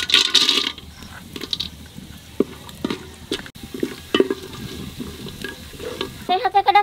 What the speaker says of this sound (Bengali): আর কটা কাজু বাদাম একটু ভাজিয়ে নেব।